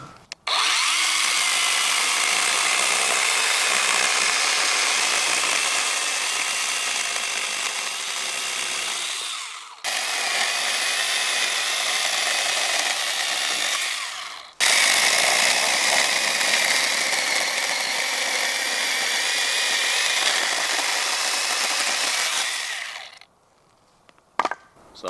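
A small Olmlmo battery chainsaw cuts through wood in long, steady, loud bursts of high whining buzz, briefly pausing twice between cuts before falling quiet near the end.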